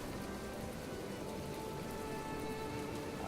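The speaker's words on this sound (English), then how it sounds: "It is really raining now." Steady rain from new weather mechanics in the video game Planet Explorers, a dense, even hiss of falling drops that continues unbroken and fairly loud with no other sounds.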